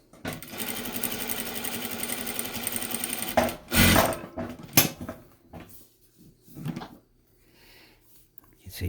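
A Bridgesew 8700 sewing machine stitches in a steady, fast mechanical chatter for about three seconds, then stops, followed by scattered clunks and handling noises and a short burst of running near the end.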